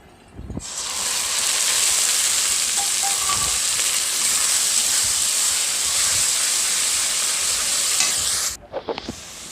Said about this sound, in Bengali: পেঁয়াজগুলো ভাজা হয়ে গেছে, এবার এতে বেটে রাখা মশলাটা এতে দিয়ে দেব।